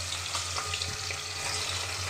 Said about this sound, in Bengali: এবার এর মধ্যে আমি একসঙ্গে অনেক মাছ দেব না, আমি একটা একটা করে মাছ দিয়ে ভেজে নেব।